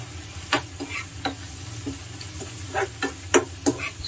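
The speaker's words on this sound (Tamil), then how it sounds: "இது ஒரு 2 நிமிஷம் நல்லா கொதிக்கிட்டு இது" A thick tomato mixture for poha bubbles in a pan, with soft irregular pops and plops over a low simmering hiss.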